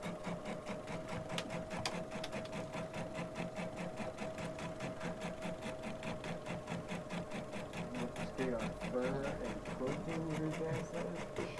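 A serger sewing machine stitches fabric with a fast, even mechanical whir and rapid rhythmic chatter, close and continuous, with a brief change in pace near the end.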